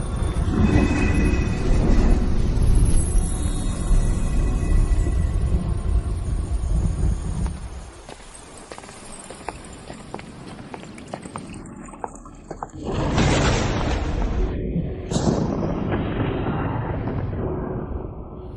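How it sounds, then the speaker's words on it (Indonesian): A long, heavy rumble of thunder without rain rolls and crackles loudly, fades into quieter rumbling, then surges again in a second booming crash. "Mengapa petir tanpa hujan ini begitu tiba-tiba?"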